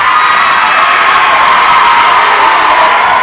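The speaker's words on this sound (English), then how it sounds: "Crowd erupts." A dense, loud roar of cheering and shouting fills a school gym at a 5A area high school volleyball match after a long rally, continuous and unbroken for its whole length.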